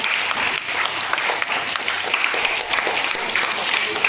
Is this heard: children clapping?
yes